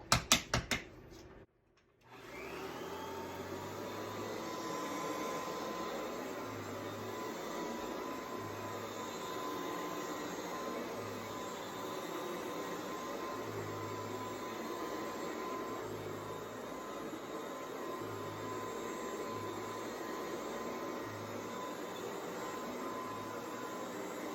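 A Kirby-style Comvac 1300 upright vacuum cleaner running in a demonstration, a switch click followed by a steady, moderately loud motor whine and airflow roar that holds unchanged, with no talking.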